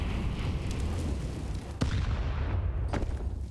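A grenade goes off on the Inferno map in a Counter-Strike pro match, as a deep rumbling boom with a sharp crack under a dense, continuous low roar of game noise.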